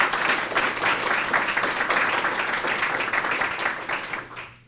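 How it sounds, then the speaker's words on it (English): Applause from an audience at a corporate award ceremony honoring staff at The Aerospace Corporation, a dense steady wash of many hands clapping that holds strong for several seconds, then fades out abruptly at the end. "let's give them a round of applause"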